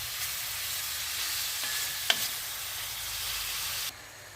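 Lamb meat sizzling and being stirred in a saç pan, a steady close frying hiss with a single sharp scrape of the utensil midway before the sound cuts off.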